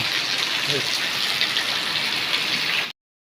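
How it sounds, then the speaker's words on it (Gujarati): Heavy rain in Dahod pours down as a loud, dense, unbroken hiss of water on surfaces nearby, with a faint brief voice in the background before the sound cuts off abruptly. "ખૂબ વરસાદ છે દોસ્તો"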